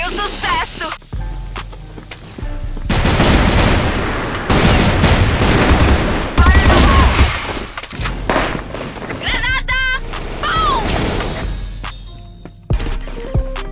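Bursts of gunfire and booms from a flashbang grenade in a shooting video game, loud, dense rattling volleys and blasts through the middle, with voices talking over parts of it.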